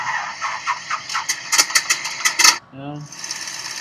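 A small engine chugs and rattles in quick rhythmic pulses, then cuts to a brief falling whine before a steady hum resumes.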